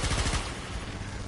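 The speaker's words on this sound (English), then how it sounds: "Okay, so you can hear gunfire, but you can't see anything." Gunfire in the video game Warframe: dense, rapid bursts of automatic fire forming a continuous, loud crackle throughout.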